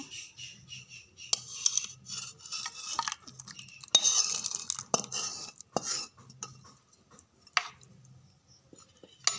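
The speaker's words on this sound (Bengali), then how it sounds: "নামিয়ে একটা বোলে ঢেলে নেব।" Yogurt prawn curry being poured from a cooking pot into a bowl, with a spoon scraping and clinking against metal in a run of soft, irregular stirring and knocking sounds, close and fairly quiet, no talking.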